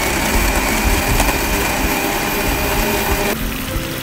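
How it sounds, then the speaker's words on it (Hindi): A kitchen blender whirs loudly and steadily as it blends yogurt with green chillies, running close by with no talk before the motor drops off near the end. "पाँच से छः अदद हरी मिर्चें ऐड कर लेंगे और इसको अच्छे से ब्लेंड कर लेंगे।"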